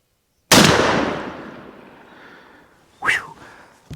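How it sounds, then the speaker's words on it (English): A single loud, close blast from a Mossberg 940 Pro shotgun firing a turkey load, ringing out with a long decaying echo, followed by a sharp exhale. "Maybe I'll take another shot with the XR to see if I can get a better shot on that."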